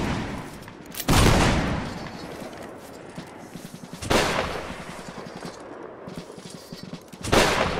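Three loud, booming gunshots from a multiplayer video game are spaced a few seconds apart. Each blast tails off into a rumbling echo, with muffled clatter and faint game noise between them.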